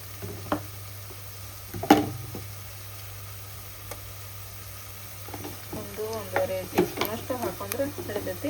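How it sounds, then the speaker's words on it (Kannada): Garlic paste and fried onions being mixed in oil in a pan, a soft sizzle with occasional utensil clinks and stirring, while a person talks over the latter half. "ಇವೆಲ್ಲ ಬೆಳ್ಳುಳ್ಳಿ ಪೇಸ್ಟ್ ಹಾಕಿದ ಮೇಲೆ ಇದನ್ನು ಈ ಥರ ಎಣ್ಣೆ ಒಳಗೆ ಚಲೋ ಚೆನ್ನಾಗಿ ಮಿಕ್ಸ್ ಮಾಡ್ಕೊಬೇಕು."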